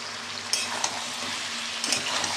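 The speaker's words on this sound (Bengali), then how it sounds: "আমি 6 পিস আলু দিয়ে দিলাম, একবারই ভাজা ভাজা করে তারপরে মশলাটা দেবো।" Six pieces of potato frying in a pan for a chicken curry, a steady close sizzle throughout with a few sharp clatters from stirring, no voices.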